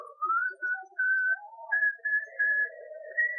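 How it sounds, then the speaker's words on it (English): A person whistles a short tune of sustained, clear notes in several phrases with brief gaps, close and alone with no other sound. "But long before I could reach her, Stafford began to whistle."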